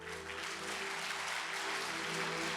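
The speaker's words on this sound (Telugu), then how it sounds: "చూడండి గట్టిగా చప్పట్లు కొట్టండి" A church congregation claps during a sermon, a continuous wash of many hands that stays constant and moderately distant. A steady low hum sits beneath the clapping.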